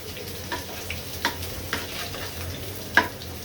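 Onion and garlic fry in hot oil with dried red chili and bay leaf, a soft steady sizzle broken by several sharp stirring scrapes and clinks of a spoon against the pan.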